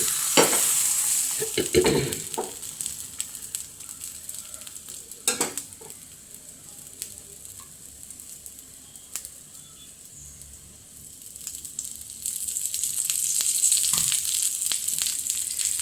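Rava dosa batter frying on a hot pan, giving a steady close sizzle with scattered scrapes and clinks of a utensil against the pan, louder at the start and end.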